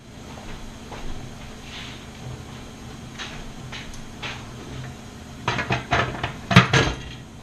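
Metal clanks and clatters as a weight is set on top of a pressure canner used for canning bone broth, a quiet hiss at first, then a cluster of sharp close knocks near the end.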